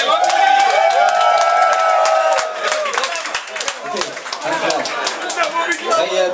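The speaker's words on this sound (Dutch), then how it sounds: "Geef ze een applaus." A club audience claps and cheers for a local rock band, a dense wash of applause and shouts that thins into scattered claps and voices.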